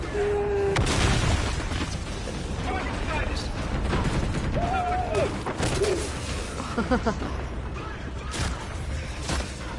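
A grenade goes off in a space combat video game with a deep booming blast and rumbling bursts, followed by pops and mechanical game effects, loud and dense throughout.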